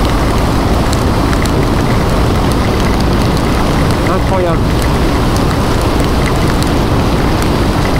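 Heavy rain roars down in a dense, unbroken hiss in Algeria, loud and close, while a person briefly exclaims partway through.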